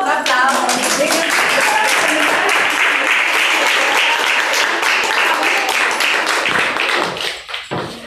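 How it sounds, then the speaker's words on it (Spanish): An audience at an indigenous women's book presentation applauds loudly, a dense sustained burst of clapping with some voices mixed in, fading out near the end. "Le damos un aplauso a los dos."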